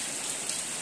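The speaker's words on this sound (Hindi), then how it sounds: "बारिश का शोर आपको सुनाई दे रहा" Steady rain on a surface, a soft even hiss with no distinct drops or voices, running alone through the brief moment.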